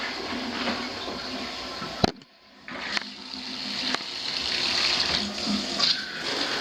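Toilet in a 1980s North Dallas house bathroom being flushed, a steady rush of water with a brief drop and clicks of the handle, sustained and fairly close.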